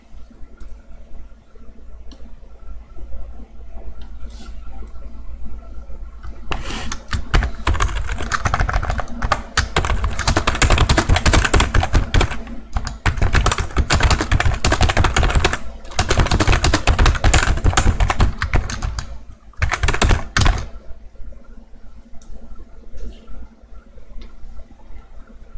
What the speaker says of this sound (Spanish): Tecleo